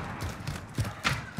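Quick metallic clicks and clacks of a sniper rifle magazine being changed in Modern Warfare gameplay, a few mechanical snaps over steady background game noise.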